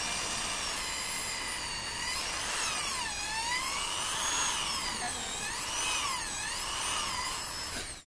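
A power drill runs steadily with a bit boring into wood while making a sideburn plane, its high whine shifting in pitch as the load changes, loud and continuous for about eight seconds with no talking.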